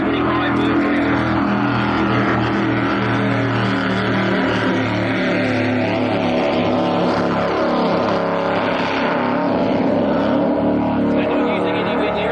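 A racing powerboat with a 525 Mercury engine of 502 cubic inches runs on the Manning River at Taree. Its loud, continuous engine roar stays close and strong, with rising and falling harmonic tones as the revs shift.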